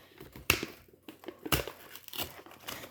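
Plastic wrapping on an instant ramen cup crinkles and crackles close by in short, sharp bursts, two louder crunches standing out among lighter rustling handling.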